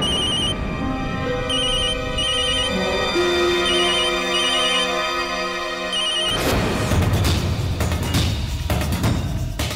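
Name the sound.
telephone ringing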